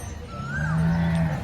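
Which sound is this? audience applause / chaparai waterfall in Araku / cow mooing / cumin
cow mooing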